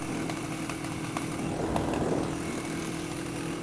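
A 1980 Yamaha XS400 Special II motorcycle engine runs steadily nearby, a continuous buzzing drone with rough, uneven pulses and a brief surge near the middle, with no one talking.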